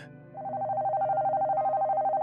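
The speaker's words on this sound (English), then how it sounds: "the phone began to ring." A telephone ringing sound effect starts after a brief quiet moment and becomes a loud, steady warbling trill that pulses rapidly and evenly until the end.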